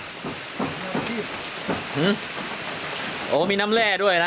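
Rain falls steadily during an outdoor pork rib grill, a continuous hiss of drops heard under intermittent speech from nearby people.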